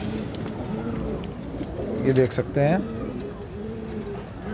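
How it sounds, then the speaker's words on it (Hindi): A Bajra pigeon, kept as a high-flyer breed, gives soft, rolling coos close by while someone talks over them. "ज़बरदस्त बाजरा कबूतर,"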